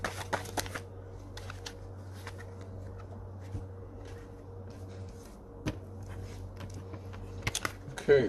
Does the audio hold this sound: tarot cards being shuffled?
yes